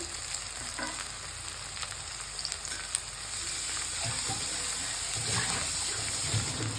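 Green chillies frying in hot oil in a pan give a steady, moderately loud sizzle with soft crackles and a brief stir, rising slightly toward the end.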